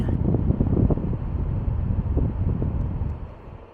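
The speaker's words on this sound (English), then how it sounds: "you should be able to hear the exhaust fan" A dryer exhaust vent fan blows steadily outside through a soffit vent, giving a low, continuous rushing hum that fades slightly at the end, with no talking.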